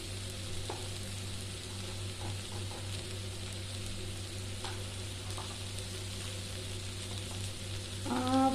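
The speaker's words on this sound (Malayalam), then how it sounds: "ഇനി ഇത് ആ പച്ച മണം മാറുന്നിടം വരെ നല്ലതുപോലെ ഈ ഉള്ളിയിലിട്ട് നമുക്കൊന്ന് ഫ്രൈ ആക്കി എടുക്കാം" Chilli powder, coriander powder and turmeric frying with onions in a pan for a paneer curry, a steady close hiss and crackle with occasional stirring scrapes throughout.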